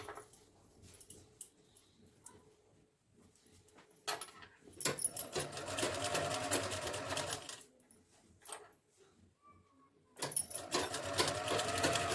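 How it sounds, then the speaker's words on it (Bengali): A sewing machine stitching a dress: bursts of rapid mechanical stitching separated by quiet pauses, close and clear. "এভাবে পুরো রাউন্ড কমপ্লিট করে তারপরে চাপ সেলাই দিতে হবে"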